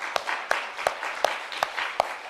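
A church congregation at a Friday evening service claps together in a steady rhythm, with sharp regular beats about every third of a second over a dense wash of applause.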